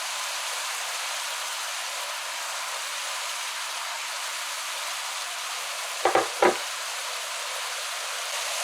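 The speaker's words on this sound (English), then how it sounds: "you want to go in with your tomatoes now" Steady close sizzle of tomatoes frying in a pan with eggplant and eddo, a continuous hiss with two brief stirring scrapes near the end.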